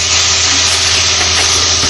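Garlic frying in a pan with meat marinade liquid added lets out a loud, steady hiss that stays close and continuous throughout, with no talking.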